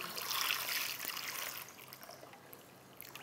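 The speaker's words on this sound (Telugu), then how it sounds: "ఇలా వేసుకున్న దాంట్లో చల్ల నీళ్ళు పోసేయండి" Cold water is poured over hot hard-boiled eggs in a kitchen bowl, a soft, quiet splashing trickle that fades after a second or so.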